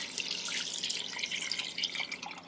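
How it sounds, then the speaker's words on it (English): Water splashes steadily into a pot of overnight-soaked chickpeas, making a close, continuous hissing pour with no voices. "And we're gonna add water now."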